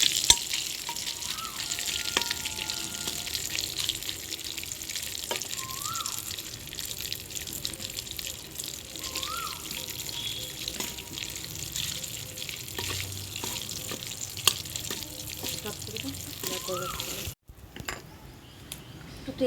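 Nigella seeds, torn bay leaf and dried red chillies frying in hot oil for a Bengali prawn and taro-leaf dish, a steady close sizzle and crackle running throughout, briefly cutting off near the end.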